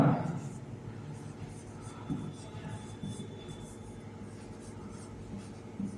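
Marker or chalk writing on a classroom board during a Class 10 maths lesson, a steady scratchy scrawl running throughout at moderate level, with a faint background hum.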